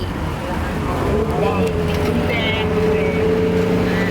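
Riding in the back of a songthaew pickup taxi in Hua Hin, Thailand: a loud, steady engine drone and road rumble fill the clip, with faint voices mixed in.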